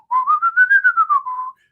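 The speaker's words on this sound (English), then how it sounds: "So when I whistle" A person whistles a single bright, clear melodic phrase up close, the pitch rising and then falling through about eight distinct pulsed notes with no other sounds around it.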